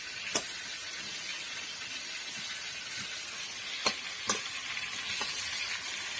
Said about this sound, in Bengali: আলুটা ভালো করে ভেজে নিতে হবে